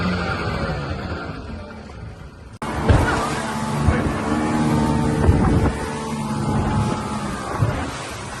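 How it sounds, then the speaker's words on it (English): A speedboat engine drones near a beach on the way to Koh Samed island in Thailand, with a close, steady motor rumble and wind buffeting the microphone, growing louder after a sharp cut. "this is the speedboat we've got to catch onto the island"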